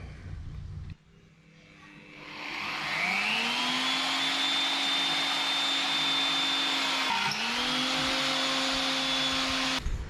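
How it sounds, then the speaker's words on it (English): A power tool cuts and drills steel for a swing-away tyre carrier on a Ford Territory rear bar, a steady loud whining drone that rises after a slow spin-up, dips briefly, then continues evenly. "So they're cut and drilled now."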